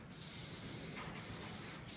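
Primer sprayed from a spray nozzle onto a piece, a steady close hissing spray that runs continuously with slight dips, no talking.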